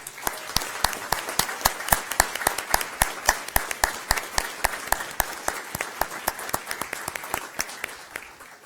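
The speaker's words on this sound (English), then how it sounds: "we want to give you a round of applause" Scattered applause at a board meeting as a drill team stands to be honoured, a modest number of people clapping in a fairly quick, even rhythm, individual claps distinct and crisp, with no talk.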